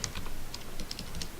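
Brief, quiet, rapid key clicks from typing on a computer keyboard, several light taps in quick succession during Minecraft play.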